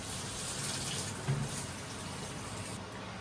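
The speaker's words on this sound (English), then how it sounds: "I'm gonna fill this back up halfway with hot water" Hot water runs from a tap into a bucket during milking machine cleaning, a steady broadband rushing splash that stays even and continuous throughout, fairly quiet and close, with no talking.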